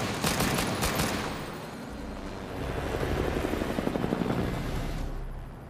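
Helicopter in the action film Extraction 2, a close, loud rotor roar with a rapid chopping pulse that holds throughout, mixed with bursts like gunfire.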